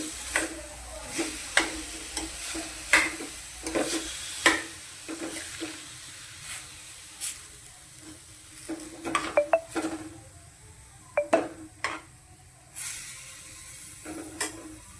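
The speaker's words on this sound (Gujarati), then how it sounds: "આ રીતે આપણે ઘડીક હલાવવાનું છે" Cold leftover roti pieces stirred in a pan on the stove, a spoon scraping and clattering against the metal in irregular bursts over a low sizzle, close and fairly quiet.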